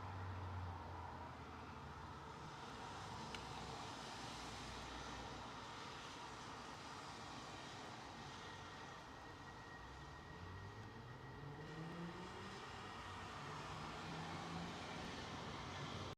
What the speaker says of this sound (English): A British Airways A320 rolling down.